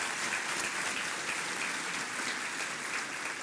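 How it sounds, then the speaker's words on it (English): Applause for meal servers at a business luncheon, a dense, even wash of clapping from a large room, steady throughout with no voices over it. "Let's give them all a round of applause"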